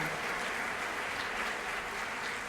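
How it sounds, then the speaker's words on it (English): An audience applauds employees at a workplace service recognition event, a steady, dense wash of clapping that stays loud and even throughout with no pauses. "let's give them a rousing round of applause"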